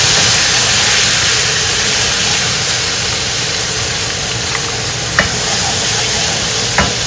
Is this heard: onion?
yes